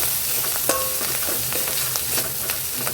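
Garam masala being stirred into fish curry in a pan, a loud steady sizzle with repeated scraping and tapping of the spoon against the pan.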